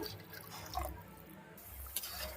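Faint liquid splashing and dripping as water is poured into a vegetable curry, quiet and close, with no voices.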